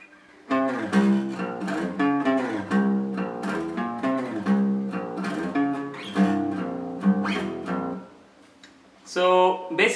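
Guitar plays the first riff of a song, a quick run of sliding, picked notes ringing out in steady bursts for about eight seconds, then a brief louder strum near the end, with no voices.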